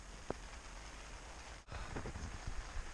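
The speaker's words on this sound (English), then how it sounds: "And you can see the rain coming." Rain sweeps in over a lake during a kayak camping trip in Temagami, a steady wash of drops on water and tent close by, with a brief gusty lull partway through.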